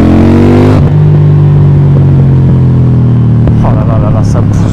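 A KTM Duke 790 motorcycle engine revs hard close up, its loud tone sliding down steadily after a sharp blip, then settling into a lumpy idle with a brief rise near the end.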